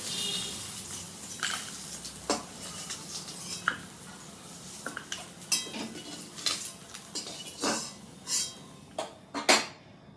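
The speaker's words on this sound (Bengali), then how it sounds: "এবার আমি মাছটা তুলে নেবো" Fried puti fish is lifted out of hot oil in a pan, with scattered metallic clinks and scrapes of a spatula against the pan over a faint background sizzle, close and irregular.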